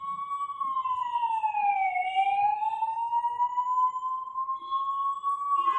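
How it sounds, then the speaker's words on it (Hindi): An ambulance siren sounds outside, a loud steady wailing tone that slowly dips in pitch and rises again as it passes, carrying on alone without talk. "ये एम्बुलेंस साहब निकल जाए।"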